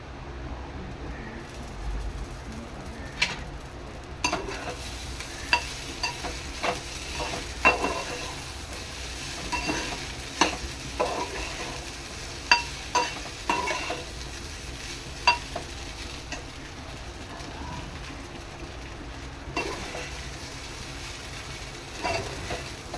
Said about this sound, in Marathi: आता याच्यामध्ये मी टाकणार आहे साबुदाणा